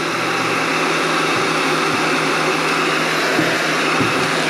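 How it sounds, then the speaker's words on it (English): A heat gun blasts hot air to shrink wrap over an item, a loud, steady blowing roar that runs unbroken from start to finish. "then we're gonna turn the heat gun on"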